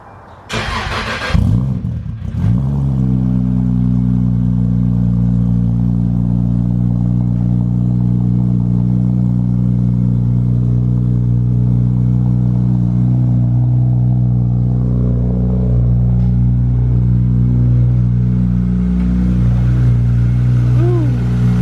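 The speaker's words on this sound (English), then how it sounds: "We're gonna see what a cold start sounds like." A modified car with a stroker kit starts from cold: a brief starter crank and catch, then a loud, close, steady rumbling idle that holds for about twenty seconds.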